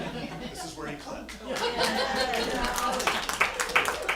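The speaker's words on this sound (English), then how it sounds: "This is where he clapped." A stretch of clapping mixed with chuckles and light laughter from a small gathering, the claps coming in scattered uneven bursts alongside talking voices.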